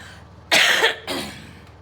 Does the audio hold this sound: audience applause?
no